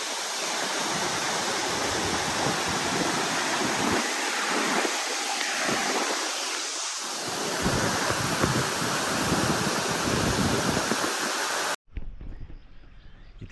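A waterfall at Mandaram Nuwara pours down like a shower, a loud, steady broadband rush of falling water that fills the whole stretch before cutting off abruptly near the end.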